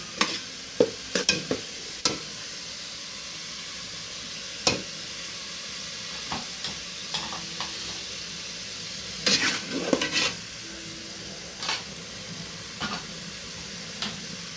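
Blended pepper stirred and sizzling in a pot while plantain porridge is cooked, giving a steady frying hiss broken by sharp scrapes and knocks of a spoon against the pot, loudest in a cluster near the end.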